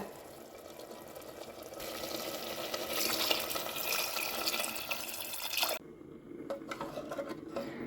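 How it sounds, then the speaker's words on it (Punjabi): Water pours steadily into a pot of white chickpeas with a broad rushing hiss for several seconds, then cuts off, leaving faint kitchen sounds. "ਹੁਣ ਮੈਂ ਪਾਵਾਂਗੀ ਪਾਣੀ ਇਹਦੇ ਵਿੱਚ ਲੋੜ ਮੁਤਾਬਕ"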